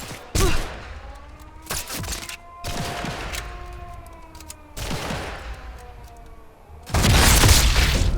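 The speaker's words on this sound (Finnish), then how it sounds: "Oh, sieltä ammutaan näköjään." Gunfire in the video game Sniper Elite 5, in an occupied residence: several loud booming shots and bursts ring out with long echoing tails, ending in a heavy sustained volley.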